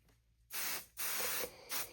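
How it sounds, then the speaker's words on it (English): Three bursts of spray adhesive hiss from an aerosol can, each about half a second long, close and loud, separated by short quiet gaps, while basting a quilt. "And then you spray here and roll it back and flatten it."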